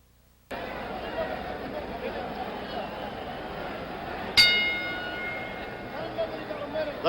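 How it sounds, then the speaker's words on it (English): The ring bell for round 11 clangs once at a 1977 heavyweight boxing match between George Foreman and Jimmy Young, a bright ringing strike cutting through a steady roar of crowd noise and commentary. "The bell for round 11"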